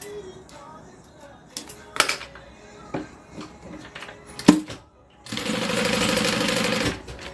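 A sewing machine stitches a notebook holder in a steady, loud continuous run of about two seconds, preceded by scattered knocks, clicks and handling noises.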